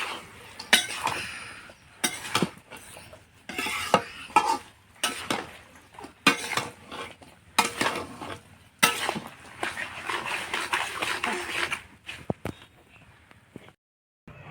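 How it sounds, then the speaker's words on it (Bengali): A utensil scrapes and clinks against a pan as cumin powder is stirred into chalta (elephant apple) pickle, in irregular bursts of stirring with short pauses between them, fairly quiet and close. "জিরা গুঁড়া দিয়ে সুন্দরভাবে লাড়াচাড়া করে নেবো"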